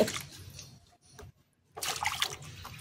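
Warm water mixed with baking soda, used to wash a sore on an abandoned dog: close splashing and trickling in two bursts, separated by a quiet gap.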